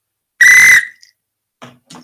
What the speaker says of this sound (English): When we get them right, we get a whistle.